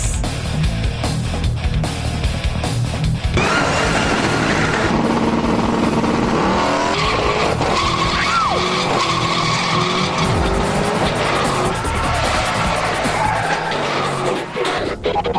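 A race car accelerates and skids with tire squeal while racing a Ford Shelby, the engine roaring loudly and steadily throughout with sweeping pitch changes.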